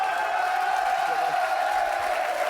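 An audience in a TV game show studio applauds in a steady, even wash of clapping with a faint tonal hum underneath, holding at the same level throughout.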